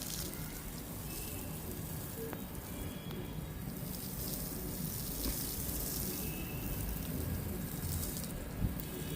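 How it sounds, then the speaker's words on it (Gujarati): Water gushes steadily from an overhead tank pipe with the motor off, a constant splashing rush that never lets up, with no talking. "આ મોટર ચાલુ ન હોય તો આવું ફૂલ પાણી આવે"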